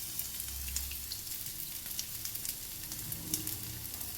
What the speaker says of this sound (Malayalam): വെളുത്തുള്ളി അത് കിടന്ന് ആ എണ്ണയിൽ കിടന്ന് മൂക്കട്ടെ